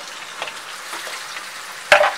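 Marinated chicken goes into a pan of light golden brown fried onions, with a low frying hiss, a few soft stirring scrapes and a sharp clattering burst near the end.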